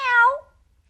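A single clear cat meow, close and fairly loud, rising then falling and fading into near silence.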